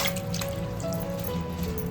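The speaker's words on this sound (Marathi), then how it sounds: "पाण्याने एकदा धुतली ना तर पूर्ण क्लीन होऊन जातात" Water dripping and trickling off freshly washed leafy wild greens, a close, steady patter of drops over a continuous hum, with no talk.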